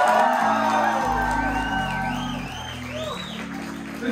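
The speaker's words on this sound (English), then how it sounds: "Everybody give a round of applause." Crowd noise at a live rap show at The Middle East club, with whoops and shouts over a loud, sustained wash of audience sound and a low musical hum underneath.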